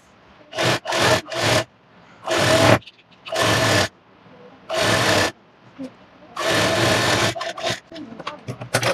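Sewing machine stitching a bridal blouse fabric in several loud bursts of rapid whirring, separated by short pauses, close by, with a voice briefly talking between runs.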